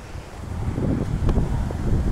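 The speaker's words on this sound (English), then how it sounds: "I'm gonna make this nice and quick outside because the wind is brutal" Strong outdoor wind buffets the microphone next to a 2020 Kia Soul GT Line 1.6 Turbo, a loud, low, gusty roar that builds and stays steady, with no speech.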